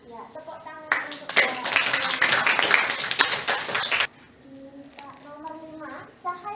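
A classroom of students claps together in a dense burst of rapid, overlapping hand claps lasting about three seconds, cut off abruptly, with a teacher's voice speaking before and after.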